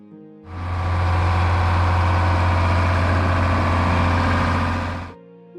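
A 1960s John Deere tractor engine runs at a steady idle, a loud, continuous low drone with a deep throbbing hum that starts abruptly, holds for about five seconds and cuts off.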